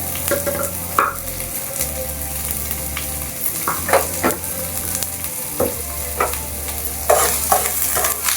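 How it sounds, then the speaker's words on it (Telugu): Turmeric and salt being stirred into a Kerala-style soya chunk curry in a pan: a steady sizzle runs throughout while a spoon scrapes and knocks against the pan at irregular intervals, close and alone. "ఇలా కలబెట్టుకోవాలండి."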